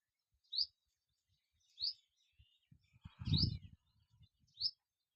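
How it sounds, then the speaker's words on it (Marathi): Birds in countryside woodland chirp in short, bright calls spaced about a second apart, fairly faint and distant over near-silence, with a brief low rustle in the middle. "पाखरं चू चू करल्यात."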